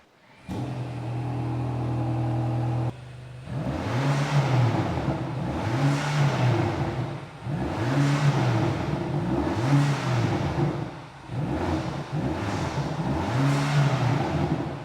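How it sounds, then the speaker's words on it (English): A BMW XM Label Red with a 4.4-liter bi-turbo V8 starts with a steady idle, then revs repeatedly in a rhythmic series of rising and falling engine swells, loud and close. "So how do you guys like the sound of this BMW XM Label Red by LARTE Design?"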